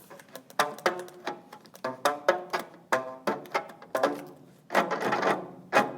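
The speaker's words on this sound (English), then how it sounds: "And that is a tissue box guitar." A homemade guitar made from a tissue box with rubber band strings is strummed repeatedly, giving a series of twangy plucked bursts in an uneven rhythm, close and fairly loud, with no talking.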